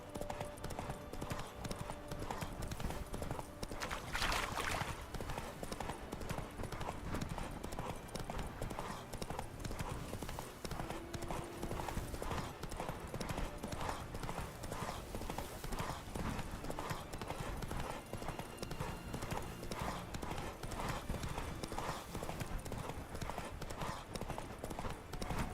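Horse hooves clip-clop at a steady trotting rhythm on a road in The Witcher 3: Wild Hunt, Blood and Wine, continuous and moderately close throughout, with quiet ambient game sounds underneath.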